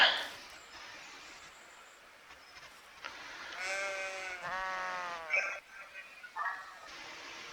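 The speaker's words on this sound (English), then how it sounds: "Now we got our sheep." Sheep in a farming video game bleat several times in a row, a cluster of wavering cries in the middle of a soft, fairly quiet scene.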